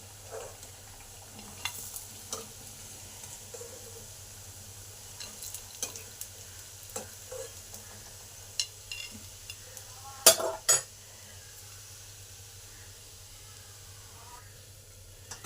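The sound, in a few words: pea chops frying in hot oil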